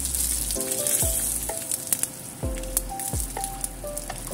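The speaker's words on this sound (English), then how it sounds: "Stir fry a little bit." Ingredients for braised beef shanks with seven spices stir frying in a pan, a loud steady sizzle with scattered crackles and the occasional clink of a utensil stirring, heard up close without speech.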